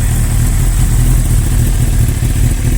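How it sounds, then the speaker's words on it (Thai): A Suzuki GSX-R1000 motorcycle engine idles steadily and smoothly up close, a low constant rumble with no revving. "เครื่องยนต์เดินนิ่งๆเงียบๆนะครับผม"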